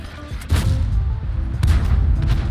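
Tank cannon fire in the World of Tanks video game, on the Minsk map: two heavy booming blasts about a second apart over a constant low rumble.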